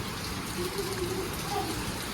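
Heavy monsoon rain falls steadily as a dense, even wash of noise with no breaks, heard from nearby and moderately loud.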